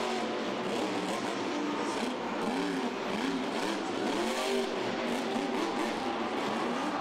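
The Grave Digger monster truck roars through a Monster Jam show in the Mercedes-Benz Superdome, New Orleans, in 2012. Its loud, sustained engine rises and falls through repeated revs over a busy arena backdrop.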